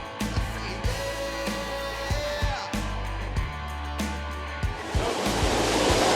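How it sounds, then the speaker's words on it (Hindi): Deep, fast-flowing water rushes through a cave in Uttarakhand, a continuous loud roar of churning water that swells toward the end, with other sounds layered over it. "पानी की स्पीड भी ज्यादा है।"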